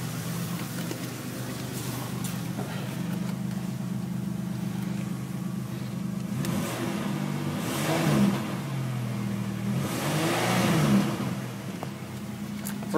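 Heard from inside the cabin, the 3.8 V6 of a 1985 Oldsmobile 98 runs at a low, steady drone and is revved twice, with each rev swelling briefly and then settling back to idle.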